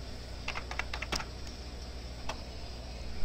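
Someone types a command on a computer keyboard: a quick run of close, light key clicks, then a short gap and one more tap, with no talking.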